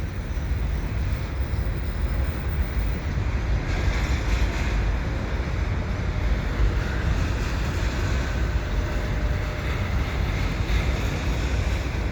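CP eastbound double-stack freight train passing and slowing, a continuous low rolling rumble and wheel noise close by, steady throughout with no talk.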